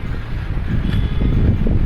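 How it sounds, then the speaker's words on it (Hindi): Cold morning wind blows steadily into the microphone on a walk past trees, a loud, continuous low rumble and buffeting with no voices. "क्या ठंडी हवा चल रही है,"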